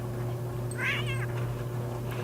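A cat in The Sims 3 lets out one wavering, drawn-out meow in the middle of a steady background hum, with no one talking.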